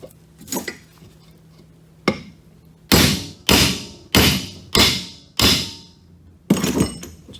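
A series of heavy metallic hammer blows driving a bearing into a Polaris Ranger rear differential, about seven sharp strikes in an uneven rhythm, each ringing briefly before fading, close and loud.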